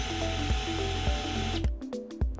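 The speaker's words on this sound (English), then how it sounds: "place the tool into drill speed mode and run the tool" A traumadrive surgical power tool spinning a reaming attachment in drill speed mode: a close, steady high-pitched whine with rhythmic pulsing that cuts off abruptly, leaving a few brief clicks and taps.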